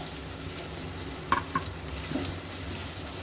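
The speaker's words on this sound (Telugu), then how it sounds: "ఇది బాగా బ్రౌన్ అయ్యే వరకు వేయించుకోవాలి" Green chilies fry in a pan for chicken curry with ginger-garlic paste, making a steady close sizzle with a few brief stirring clinks and pops, no talking.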